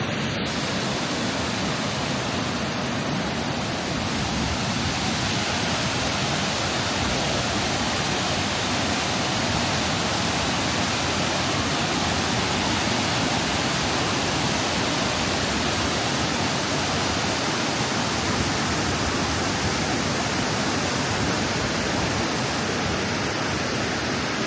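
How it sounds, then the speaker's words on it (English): Devils Punchbowl waterfall pours down from big mountains in a constant, loud, dense rush of falling water that stays even and unbroken from start to finish, with no voices. "And then you will come to this beautiful waterfall, which I'm just gonna show you now."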